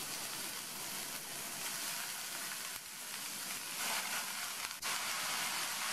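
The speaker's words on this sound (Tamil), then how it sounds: "முட்டைக்கோஸ் சேர்த்ததுக்கப்புறமா எண்ணெயிலேயே 2 நிமிஷம் போல வதக்கி விட்டுக்கணும்." Quarter kilo of chopped cabbage sautéing in hot oil in a pan, a steady loud sizzle and hiss with faint stirring scrapes throughout, no voices.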